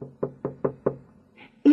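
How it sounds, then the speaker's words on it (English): Five evenly spaced knocks on a door, crisp and close, in a steady rhythm, followed by a short voice sound. "So I knocked on her door."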